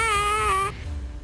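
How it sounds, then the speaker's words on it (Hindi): A newborn baby cries in a hospital just after birth outside an operating theatre, a single sustained wail that cuts off partway, leaving quiet room tone. "कुछ समय बाद एक बच्चे के रोने की आवाज आती है।"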